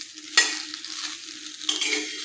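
Okra (bhindi) frying over a medium flame with a close, steady hissing sizzle, broken by a couple of brief scraping stirs.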